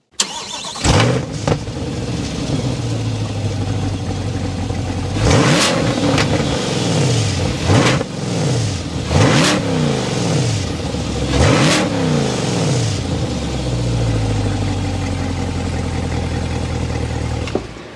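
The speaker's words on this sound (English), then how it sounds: "start up so you can hear that exhaust note." A 2023 Chevrolet Corvette Stingray's engine revs repeatedly, rising and falling in loud bursts with a deep, throaty exhaust note, settling into a steady idle between revs.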